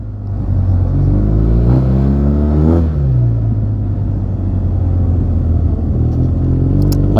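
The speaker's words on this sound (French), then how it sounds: "Ici ça glisse tellement, je vais mettre un coup. Ça patine direct." A Yamaha TMAX 560 scooter with a Termignoni exhaust revs hard as its rear wheel spins on a slippery surface, the engine note climbing loud and close, then settling to a steady drone.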